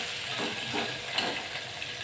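Sliced onion frying in a hot pan gives a soft, steady sizzle and hiss, quiet and close, with a few faint stirring clicks and no talk.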